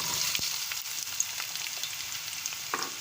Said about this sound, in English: I will fry the onion till it is light golden in color